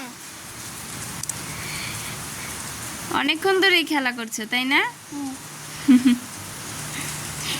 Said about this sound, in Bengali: এদিকে আবার বৃষ্টি শুরু হয়েছে, মাঝখানে থেমেছিল, এখন আবার পড়ছে।